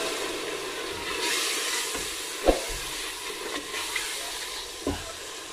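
Cumin and dried coriander frying in a pan for makhani daal hiss steadily as a little water is added, with a few soft clinks and stirring knocks over the continuous sizzle and no talking.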